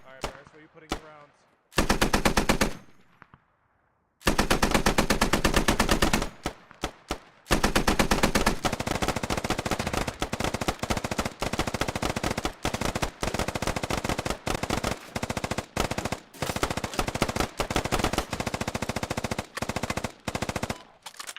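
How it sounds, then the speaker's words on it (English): Sustained suppressive machine gun fire in a military video game, long loud bursts of rapid shots broken by short pauses, close and dominant throughout with occasional voices under it. "Keep up the suppressive fire."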